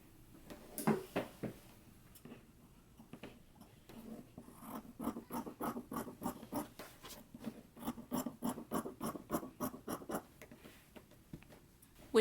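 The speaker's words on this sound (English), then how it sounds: "we can go ahead and trim our seam allowance" Fabric seam allowance is trimmed while sewing a McCall's 8001 top: quiet, close, dry scissor snips and rasping cuts repeat in an uneven run, with short pauses between bursts.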